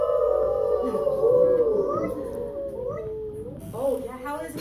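A voice imitates a howl, rising and wavering in long drawn-out tones, close and clear.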